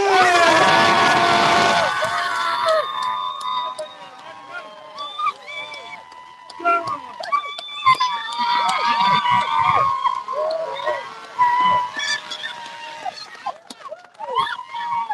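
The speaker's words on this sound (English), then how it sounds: "let's give it up And a big applause for Team Vibe the Wave!" Applause and cheering from a crowd at a race finish burst loudly for the first two seconds, then give way to scattered shouts, whistles and voices over a tonal background.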